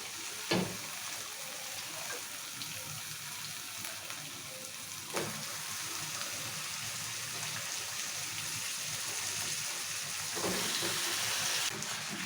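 Washed chicken pieces fry in oil over softened, cooked tomatoes in a pan, giving off a steady sizzle with a few louder clatters as the ingredients are stirred.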